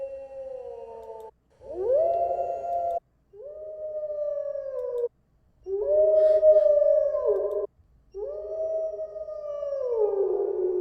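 Wolves howl as a game environment effect, four long, rising and falling howls separated by brief silences, clear and close with no other sound.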